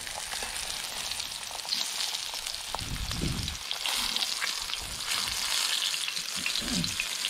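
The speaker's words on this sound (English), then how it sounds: "Frying up some fillets." Loud, crackling sizzle of shellcracker fish fillets frying in a pan outdoors on a riverbank, steady with occasional bursts of popping oil.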